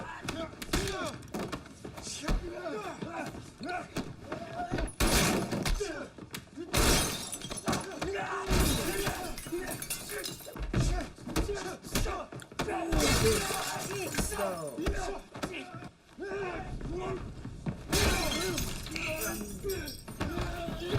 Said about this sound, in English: That's so much breakaway glass.